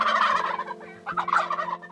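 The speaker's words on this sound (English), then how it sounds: "3 tom turkeys were walking up to the blinds, like right in front of us." Wild tom turkeys gobble close by during a hunt near the blinds, with two rapid rattling gobbles overlapping one another, loud and clear with no talk.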